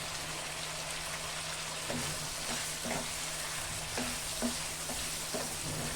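Turmeric, ground coriander, ground cumin and Kashmiri chili powder fry in a pan for chicken korma. The sizzle is steady and hissing, with several soft scrapes and taps from stirring.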